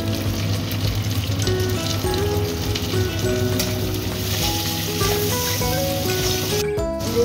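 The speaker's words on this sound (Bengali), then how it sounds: "পেঁয়াজটা ভাজা ভাজা হয়ে গেছে, আমি একটা ছোট সাইজ টমেটো এর মধ্যে দিয়ে দিলাম।" Chopped onion and a small tomato frying in oil in a pan for a fish curry, giving a loud, steady sizzle throughout with faint stirring.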